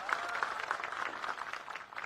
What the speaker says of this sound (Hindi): जोरदार ताली बजाओ यहाँ की पूर्व विधायिका सुलेखा ताई कुंभारे